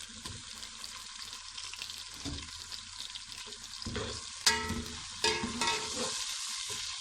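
Garlic, ginger and tomatoes fry in a pan for a Shahjahani-style curry, giving a steady close sizzle with occasional louder stirring scrapes and splashes, no talking.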